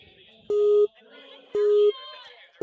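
Three loud, steady electronic countdown beeps at a Ninja Warrior Season 11 World Championships obstacle course start, each lasting about a third of a second and spaced roughly a second apart, over crowd and arena noise.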